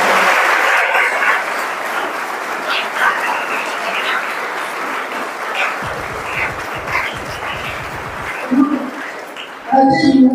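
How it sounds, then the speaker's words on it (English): A dense crowd claps steadily in a hall after a talk on careers in nutrition, the applause fading toward the end as a few voices and thumps break through. "I think they deserve great clap."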